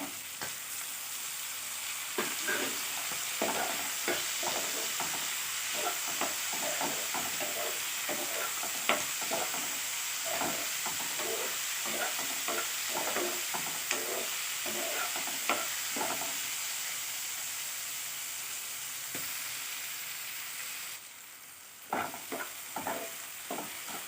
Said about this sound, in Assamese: এতিয়া দিম বিলাহীখিনি।